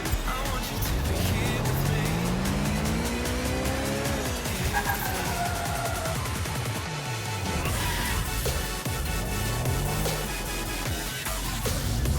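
A car drives itself in the video game Watch Dogs Legion, its engine droning loud and close with rising and falling revs, occasional tire squeal and other traffic sweeping past, no talking.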